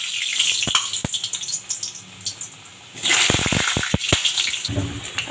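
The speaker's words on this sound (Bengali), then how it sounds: "আলুগুলো ভাজতে দিয়ে দিয়েছি" Potatoes frying in hot oil for a chicken dum biryani: a few sharp clicks, then a loud, close hiss bursts in and carries on with crackling spatters.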